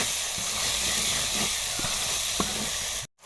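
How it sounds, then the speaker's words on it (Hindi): Coriander powder and cumin powder roasting in a pan for a bitter gourd and beef curry give off a steady close hiss and sizzle, with small clicks of stirring, then cut off abruptly near the end. "अब हम इन मसालों की अच्छे से भुनाई कर लेते हैं"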